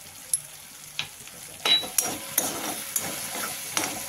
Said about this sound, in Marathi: आता 1 चमचा आपण हे आलं लसूण पेस्ट टाकणार आहोत।